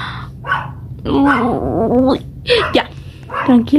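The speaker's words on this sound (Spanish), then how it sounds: "perdonen el perro que está ladre y ladre atrás del video." Dog barking and growling behind a person speaking animatedly in Spanish, the barks close and repeated in short bursts between and under the talk.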